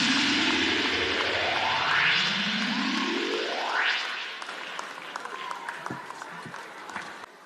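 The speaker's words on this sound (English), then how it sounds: "Please, a big round of applause as he's come off stage for the keynote address." A crowd applauds at a political event as the keynote speaker takes the stage. Sustained clapping runs under two rising whoosh sweeps, then thins to scattered claps.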